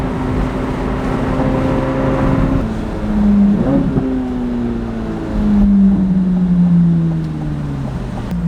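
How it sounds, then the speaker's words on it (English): A Chevrolet Corvette C8 Z06 with a 670 hp, 8600 rpm engine roars loud and close while driving, its tone sweeping up and down through gear changes over steady wind rush, with no talking. "I'm gonna put the windows down just in case you can hear this car over the noise of the wind."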